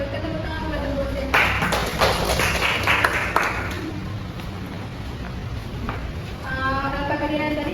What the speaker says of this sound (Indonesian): kelompok C silakan untuk berikan tepuk tangan kepada kelompok C